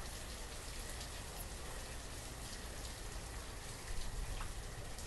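Rain pours steadily on the map in the video game Banished, a faint continuous hiss of drops with a brief swell near the end and no talk.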